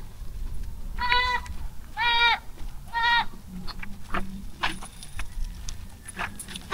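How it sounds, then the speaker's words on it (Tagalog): A goat bleats three times in quick succession, loud and close, followed by scattered clicks, rustling and small knocks. "May kambing dito"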